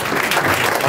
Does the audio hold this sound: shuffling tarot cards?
no